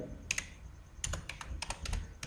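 Short bursts of computer keyboard typing while entering an Excel validation formula, several quick crisp keystrokes in small clusters, close and clear with no speech.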